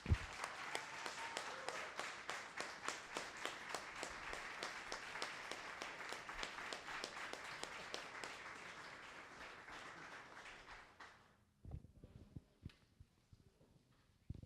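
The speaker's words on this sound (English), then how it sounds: "put your hands together, hoot and holler" A room of people at a startup event claps steadily for about eleven seconds, close and even-paced, then the applause dies away, leaving a few scattered knocks and handling sounds.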